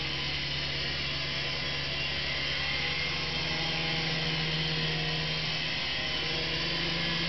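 Syma S109 Apache toy RC helicopter in flight, a constant close high-pitched whine of small electric motors and rotors with a steady drone, unbroken for the whole stretch.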